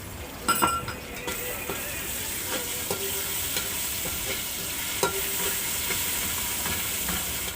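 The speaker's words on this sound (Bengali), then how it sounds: "আদা রসুনটা দেখো দিয়ে দিচ্ছি।" Ginger and garlic fry with onions in hot oil, giving a continuous close sizzle broken by a few clinks of a utensil against the pan.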